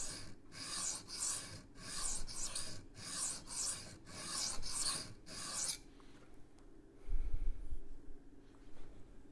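A Rough Ryder Half Hawk knife blade is drawn across a sharpening stone at a fixed angle in nine or so rhythmic rasping strokes, close and clear, followed by a quieter pause and a soft low bump.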